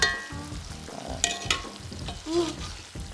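Breaded ranch chicken pieces fry in hot oil, a steady crackling sizzle running throughout with a few brief clinks and shifts as the pieces are turned, up close and without talk.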